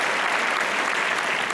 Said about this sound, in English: can we please welcome him with a round of applause?